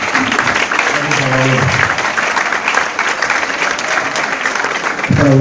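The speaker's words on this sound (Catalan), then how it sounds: "te mandaría un aplaudimiento a Salvador" Sustained applause from an audience at a Santa Cecilia music society celebration in Alginet, broad and steady throughout, with a few voices speaking briefly over it near the start and end.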